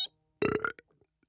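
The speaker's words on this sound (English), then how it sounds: "just practicing for the next burping tournament." A cartoon character lets out a loud, rough burp lasting about a third of a second, practising for a burping contest, followed by a few brief small sounds and then quiet.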